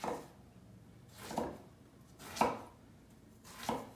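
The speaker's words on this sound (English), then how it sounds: "So now you can slice them in like big chunks, like this." A knife chops through eggplant on a cutting board in four slow, evenly spaced strokes, cutting it into large chunks, quiet and close.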